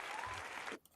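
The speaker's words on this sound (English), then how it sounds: "Do I not get a round of applause?" Applause sound effect from a looped recording, a short, fairly faint burst of steady clapping that cuts off abruptly near the end.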